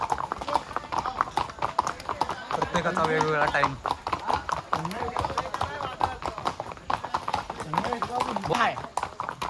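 Horse hooves clip-clop in a brisk, steady rhythm on the ride up to Matheran, close and continuous beneath people chatting over the hoofbeats.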